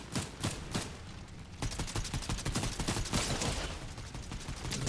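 Rapid video-game gunfire crackles in dense bursts and sustained volleys, loud and continuous through the whole stretch with no talking.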